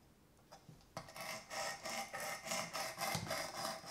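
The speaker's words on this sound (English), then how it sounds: "I'm sharpening this knife, right?" Knife blade drawn repeatedly across the abrasive of a Work Sharp Precision Adjust sharpener, a steady series of close rasping strokes in an even back-and-forth rhythm after a brief quiet start.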